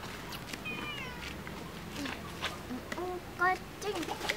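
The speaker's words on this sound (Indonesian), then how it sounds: "Kucing, kucing" An orange cat meows several times in short, rising and falling cries, fairly close, with a voice and other chatter mixed in around the calls.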